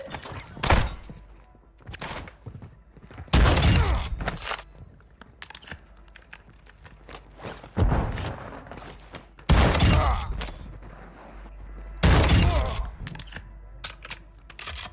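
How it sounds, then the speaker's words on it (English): Shotgun blasts in a Call of Duty DMZ match ring out as loud bursts, about four or five heavy booms spaced a couple of seconds apart, with softer thuds and footsteps between them and occasional speech. "That's my shotgun."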